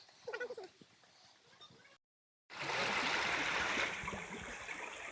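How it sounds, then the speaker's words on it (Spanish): The waterfalls of Cascadas de Pisa near Soncillo give a steady, full rushing roar heard close by. A voice is faint before a brief cut, then the water takes over loudly. "ahora vamos llegando a la última cascada"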